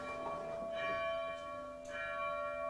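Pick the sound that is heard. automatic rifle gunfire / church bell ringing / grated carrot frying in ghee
church bell ringing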